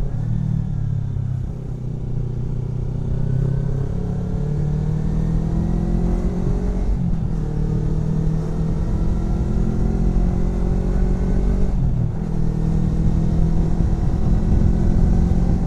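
A Kawasaki Versys X Tourer motorcycle weighing about 170 kg is ridden through Ubud, Bali, its engine droning steadily and close with rising and falling revs as it accelerates through gear changes, with no voices.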